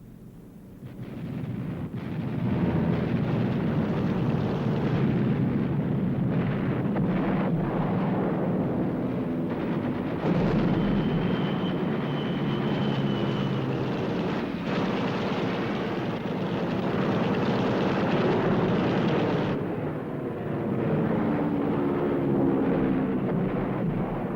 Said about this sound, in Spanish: 69 escuadrones aliados barren la costa para interceptar aviones y refuerzos alemanes